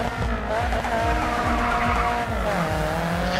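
Race car engine from the Race Driver GRID 2 video game roars loudly and continuously, with repeated gear-shift sweeps and squealing tires in a drift event on a Chicago circuit.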